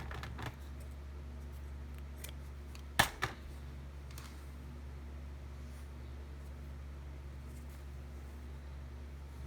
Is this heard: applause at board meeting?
no